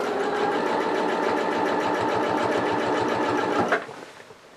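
Sewing machine stitching fabric around a curve with a quarter-inch foot, a fast, even run of mechanical needle thumps that stops abruptly near the end, leaving a faint fading whir.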